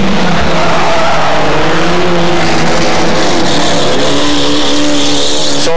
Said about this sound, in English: it's car number 10 as they head around the bottom corner and head up the back straight there